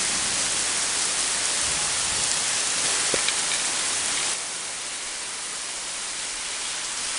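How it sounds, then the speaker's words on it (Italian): Summer storm rain pours steadily in Quartu Sant'Elena with little wind, a dense hissing wash that drops slightly in level partway through, with no talking. "Mi sono sbagliato ragazzi, anche questo è una tempesta ragazzi."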